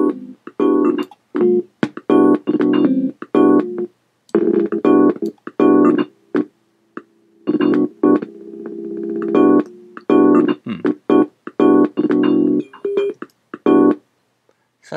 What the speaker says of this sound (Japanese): これはジングルですね、作ってみたんで